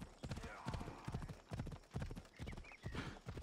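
Steady hoof clip-clops of a donkey trotting close by in Assassin's Creed Odyssey, with someone talking over them throughout.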